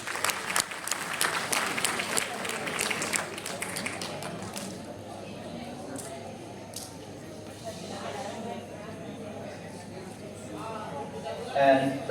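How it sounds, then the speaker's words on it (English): Audience at a school event breaks into a round of applause, dense clapping that swells loudly and then thins out, with an announcer's voice speaking over the later part. "So please give a big round of applause."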